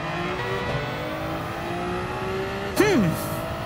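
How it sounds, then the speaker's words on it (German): Car tyres spinning and squealing in the Gran Turismo 7 racing game, a steady engine drone running throughout, then a short loud screech with a sweeping pitch near the end. "Dass die Reifen da so durchdrehen?"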